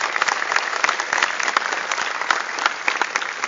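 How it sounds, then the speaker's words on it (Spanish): An audience at a game developers' conference presentation claps steadily, a close, continuous patter of many hands for several seconds. "Quiero dar un aplauso para todo el equipo de Xbox de Microsoft Argentina"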